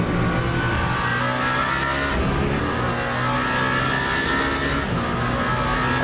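Porsche race car engine in Le Mans Ultimate at the 24 Hours of Le Mans, a loud, steady high-revving drone holding for several seconds as the car comes around through a difficult chicane.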